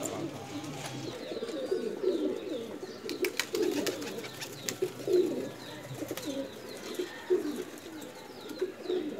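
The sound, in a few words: pigeon cooing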